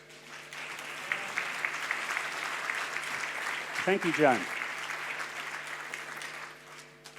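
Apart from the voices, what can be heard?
audience applause for Joan Saxon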